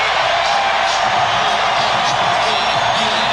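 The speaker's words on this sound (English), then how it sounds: "And Horace hearing it from the crowd." Dense, steady roar of a basketball arena crowd reacting to Horace Grant during a 1995 Eastern Conference Finals game between the Pacers and the Magic, loud and continuous with scattered whoops.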